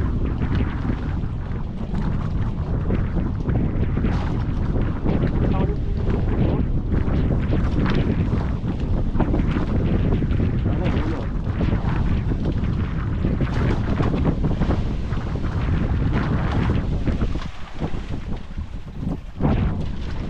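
A boat's motor drones continuously through heavy wind buffeting on the microphone, with water rushing and splashing throughout.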